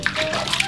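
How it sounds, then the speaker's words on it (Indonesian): Handheld shower spray rinsing a baby during bath time, a brief soft hiss of running water with light splashes, with voices nearby. "Terakhir ini ya dibilas pakai shower ya"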